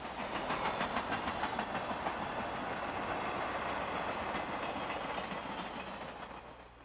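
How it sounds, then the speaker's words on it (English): Diesel freight train with a pair of mid-train diesel helpers, all General Motors EMD locomotives. A faint, steady rumble of rolling cars carries a continuous rhythmic wheel clatter that eases slightly toward the end. "This diesel-powered train has a pair of mid-train diesel helpers"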